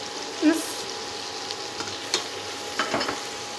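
Butter sizzles softly in a pan on the stove, a faint steady frying hiss broken by a few light clinks and stirring taps.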